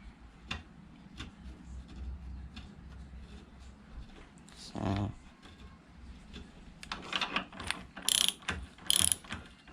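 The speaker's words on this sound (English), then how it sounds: "I'm just using my torque wrench since it's the longest ratchet I've got." A torque wrench used as a long ratchet on a 1938 Lister A restoration gives scattered quiet clicks, then bursts of rapid ratcheting ticks near the end, close and fairly faint.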